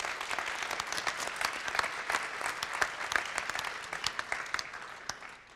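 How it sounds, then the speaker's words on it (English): Conference audience applauds the entrepreneurs, many hands clapping in a lively, dense burst that holds for several seconds before thinning and fading out at the end. "Can we give a round of applause to all of them?"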